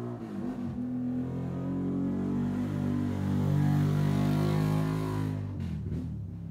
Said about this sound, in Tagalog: ang ingay ng kanyang motor